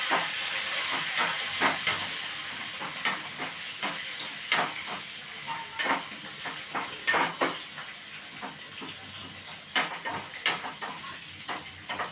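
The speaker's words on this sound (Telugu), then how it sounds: "కూడా మనం ఫ్రై చేస్తున్నాము" Chana dal keema curry fries in a pan with a steady, bright hiss and sizzle. Repeated scraping and clanking of a spatula against the metal breaks in at irregular intervals throughout.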